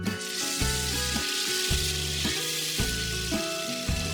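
Chicken sisig meat sizzles and crackles on a hot buttered sizzling plate, a loud continuous frying hiss close by, with steady popping and no speech.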